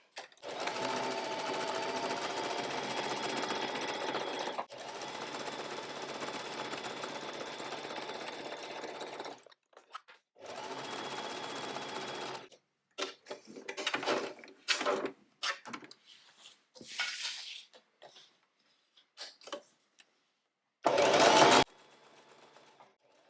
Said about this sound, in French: Pour surfiler, comme d'habitude, on se met au point zigzag et on fait tout le tour.